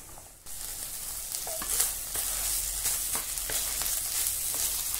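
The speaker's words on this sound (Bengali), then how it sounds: "ছানাটা আমি ভালোভাবে নেড়ে, মানে জলটা শুধু যাতে না থাকে" Chhana (cottage cheese) being stirred in a hot pan to dry out its water, a steady hissing sizzle that starts abruptly and carries repeated scraping strokes throughout.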